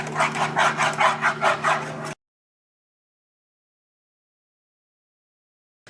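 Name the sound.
stirring cream in a saucepan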